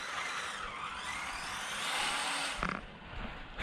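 A vintage Tamiya Porsche 908 1/10 RC car spins out with a faint, airy whir that rises slightly, then breaks into a short burst of scuffing clatter near the end, all at low volume.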